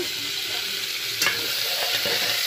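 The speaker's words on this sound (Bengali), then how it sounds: "এই যে পটল আলু বসিয়ে দিয়েছি" Pointed gourd and potato fry in a pan with a steady close sizzle, broken by one sharp clink of stirring and a few softer scrapes, no voices.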